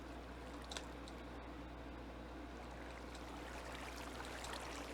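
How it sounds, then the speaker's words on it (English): Water rushing at the base of a waterfall in the Minecraft modpack Tolkiencraft, a steady broadband wash with a few brief splashy accents, moderately quiet and continuous, no talking. "you can hear the water out there. And this is the last three at the very base of the waterfall."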